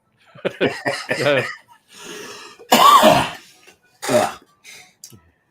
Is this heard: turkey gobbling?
no